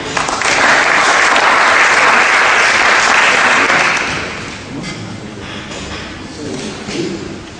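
Audience at an evening award ceremony applauding a prize winner, a loud, dense wash of clapping that holds steady for about four seconds, then thins into scattered claps and murmuring voices.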